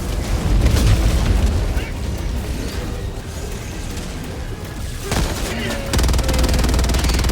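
A volcanic eruption in the video game Helldivers 2 rumbles as a loud, sustained barrage of booms and blasts, with people talking over the thunderous din.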